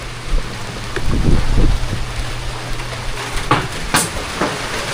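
Rain falls in a steady hiss near a sink area, with a low hum and several louder knocks and splashes breaking through, one sharp bright burst near the end.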